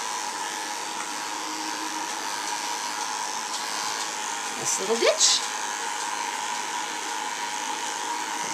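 An electric shaver hums steadily and close while trimming the fur on a 10-week-old puppy named Forest, buzzing on without a break while someone speaks over it and a few brief handling noises cut in.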